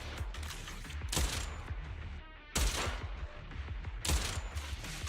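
Rapid gunfire bursts aimed at ether enemies in the game Zenless Zone Zero, three loud volleys of shots with busy game effects between them.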